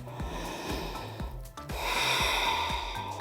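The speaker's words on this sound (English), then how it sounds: "taking a deep breath into that back area" Slow, deep breaths during a yoga stretch for the upper back, with an audible airy inhale and exhale close to the microphone over soft rhythmic background music.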